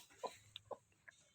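A broody hen clucks in a few short, separate bursts close by, with quiet pauses between calls in a still indoor setting.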